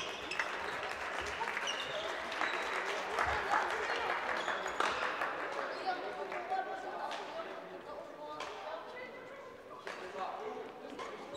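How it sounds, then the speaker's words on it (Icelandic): Applause from spectators at a badminton tournament prize ceremony, a steady broadband clatter of clapping that holds for about eleven seconds, with voices and chatter mixed in underneath. "Við skulum gefa þeim gott klapp."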